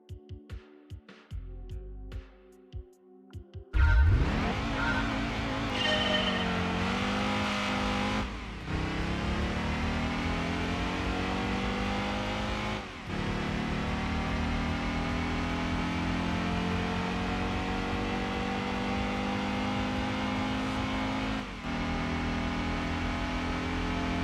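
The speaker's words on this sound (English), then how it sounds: "start acceleration and braking test with Fiat Coupe, 211 brake horsepower, front wheel, front engine" Fiat Coupe, front-engine and front-wheel drive with 211 bhp, accelerating in the PlayStation game Gran Turismo 2. A loud, continuous engine roar climbs in pitch and drops briefly at each gear change, with no talking.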